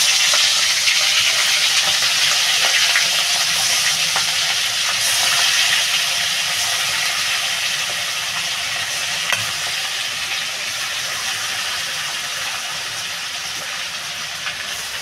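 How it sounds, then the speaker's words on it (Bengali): Prawn heads frying in hot oil, a loud continuous sizzle and crackle close by, steady throughout and gradually easing slightly toward the end. "আমার তেলটা বন্ধুরা গরম হয়ে গেছে, আমি মাথাগুলো দিয়ে দেবো।"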